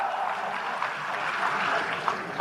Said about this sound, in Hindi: बजाओ ताली, सही रहेगा।